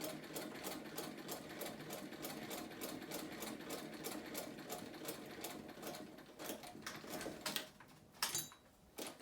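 A vintage sewing machine stitches steadily through four layers of fabric, its needle ticking in a fast, even rhythm that runs close and continuous before slowing and stopping near the end.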